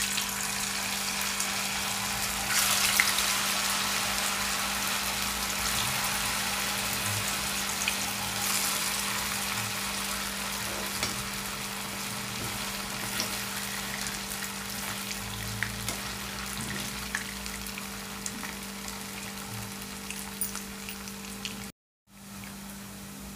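Cauliflower pakoras fry in hot oil with a continuous soft sizzle and crackle, fairly faint and steady, with no voices over it.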